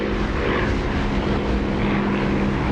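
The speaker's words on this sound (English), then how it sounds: "So the sound of the engine gets slightly louder as you do that." Aircraft engine in the DCS flight simulator, a steady loud propeller-like drone with continuous broadband roar and no break, heard from the cockpit on the runway with the canopy open.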